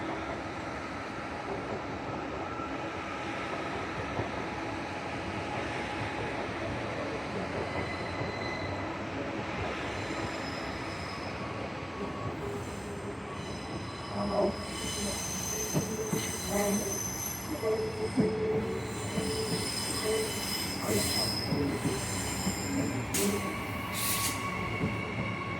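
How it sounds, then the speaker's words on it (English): A C series Ellenbrook train rolls past on a Perth line, its wheels squealing with piercing high whines that grow stronger toward the end over a continuous rumble of rail noise, with no talk. "Perfect shots, C series, and the Ellenbrook train coming."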